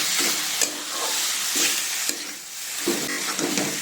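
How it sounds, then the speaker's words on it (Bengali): Radish pieces being stirred into a spiced masala frying in oil, for a fish-head and radish ghonto, with repeated scraping stirs over a steady close sizzle and no talk. "এবার এটা দিয়ে ভালোক্ষণ করে মশলাটা পুরো মূলোর গায়ে মেশাবো"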